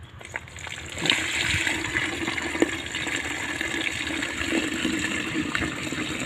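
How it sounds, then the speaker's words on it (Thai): Water is poured onto a newly planted tree in a garden, a gushing splash and trickle that swells after the first second and continues steadily, with no voices. "อันนี้ก็น้ำใส่เลยนะครับ น้ำใส่ไว้นี่เนี่ย รดน้ำใส่นี่เลยนะครับท่านผู้ชม"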